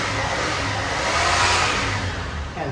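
A Buick 225 Dauntless V6 odd-fire engine built for a Willys CJ3A Jeep revs up loud and close, a rough continuous roar that swells midway and then eases off.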